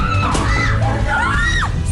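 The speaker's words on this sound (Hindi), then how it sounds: "अचानक एक बड़ा धमाका और फिर चीख पुकार" Loud screaming and yelling from several people fills a hotel birthday party scene, continuous and chaotic throughout; no distinct blast stands out at the start.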